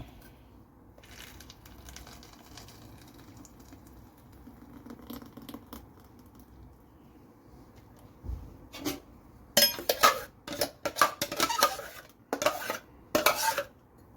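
Freshly ground palappam rice batter is moved into a vessel. After quiet rustling, a spoon or ladle scrapes and clanks against metal pots in a run of loud, close, irregular clinks.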